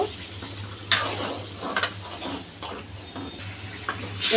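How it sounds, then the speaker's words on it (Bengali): A pan of tomato and spice masala sizzles and fries steadily for a fish curry while a spoon scrapes and stirs with a few sharp clinks; no liquid pour stands out clearly. "টমেটোটা মশলার মধ্যে কিছুক্ষণ কষানোর পরে এখন আমি পানি দিয়ে দেব।"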